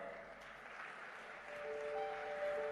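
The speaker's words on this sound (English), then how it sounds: "with a huge round of applause" A large conference audience at BioAsia 2024 in Hyderabad applauds as guests are invited onto the stage, steady distant clapping that swells slightly toward the end.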